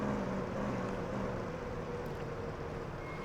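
A loud car engine in the video game Police Simulator: Patrol Officers, a low, steady drone rumbling throughout, a continuous hum with no clear revving or pauses.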